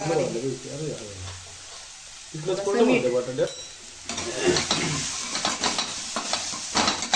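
Turmeric and salt sizzle in a little oil for a samosa filling while a spoon stirs and scrapes the pan, and someone talks over much of it.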